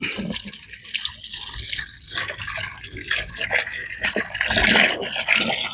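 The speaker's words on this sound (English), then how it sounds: "turn that water on. Make sure I rinse my cup out." Steady running water from a tap, a continuous splashing hiss with slight surges, close by and fairly loud.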